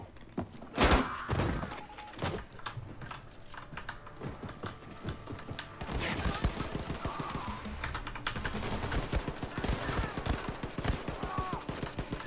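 Bursts of rapid, clattering gunfire from an unfamiliar weapon in Wolfenstein II: The New Colossus, with a sharp loud shot early on and then a sustained stream of shots growing denser and louder.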